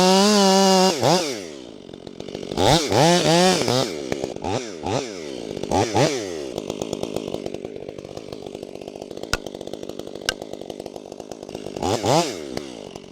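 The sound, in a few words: STIHL chainsaw cutting a tree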